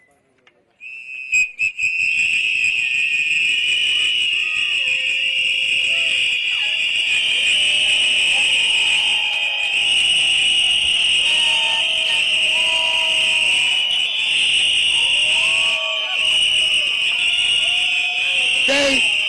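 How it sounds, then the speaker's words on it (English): Protesters at a Washington DC rally against federalized police blow whistles together in memory of the dead, a loud, sustained shrill chorus of overlapping tones holding steady for the full stretch with scattered voices underneath. "what we're gonna do 10 seconds of whistle for them who passed away"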